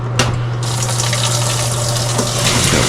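Cold water gushes steadily from a tap into a washing machine drum on a large-load setting, a constant loud rushing with a low hum underneath, no voices.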